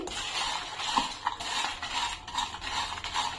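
Coconut and coriander seeds are dry-roasted in a pan and stirred with a utensil, giving a continuous scraping rustle with a few light clinks against the metal. Close and steady, no voices.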